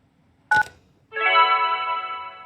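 A short telephone keypad beep for the 0 button in the game Kentucky Route Zero, followed after a brief pause by a steady, sustained tone that holds for over a second, clean and isolated against near silence.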